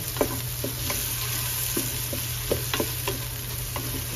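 Onions cook in a small saucepan with a steady soft sizzle and hiss, punctuated by occasional light clicks and taps of stirring, close and even throughout with no voices.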